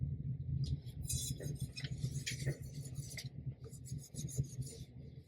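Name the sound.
wiping tumbler down with alcohol wipe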